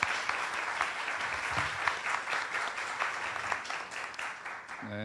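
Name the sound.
applause for the teams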